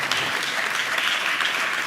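Loud applause from a church congregation fills the space, a dense and steady clatter of many hands clapping without a break.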